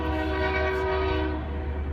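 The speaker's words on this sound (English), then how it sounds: "Freight train. I'm right here by the train station. That's why you hear that train." A loud, sustained freight train horn blares close by near a train station, holding one steady tone for over a second before trailing off amid rumbling rail noise.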